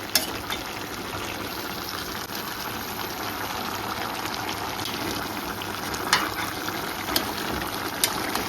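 A Jaffna-style mutton curry boils and sizzles in a pot, with a continuous bubbling, frying hiss at moderate loudness and a few faint clicks, with no talk over it.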